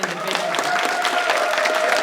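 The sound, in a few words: audience applause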